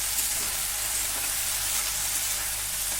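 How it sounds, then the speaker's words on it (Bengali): Ripe Malabar spinach seeds frying with salt and turmeric over a medium-low gas flame give a steady, close, even sizzle with a constant hiss and no pauses or talk. "এবার পরিমাণ মতন নুন হলুদ দিয়ে এটাকে ভালো করে ভেজে নিতে হবে"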